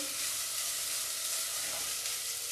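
Onions salted and sizzling in a pan while cooking grilled cheese and homemade tomato soup: a constant, even, fairly faint hiss of frying throughout, with no voices.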